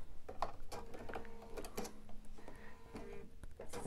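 A sewing machine stitches down the border of a bench pillow in short bursts of mechanical whirring and needle clatter, close and fairly loud, with no talking.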